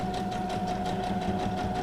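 A sewing machine runs steadily, stitching a junk journal page with a messy, looping stitch, its motor producing a continuous whirring hum with rapid needle pulses throughout.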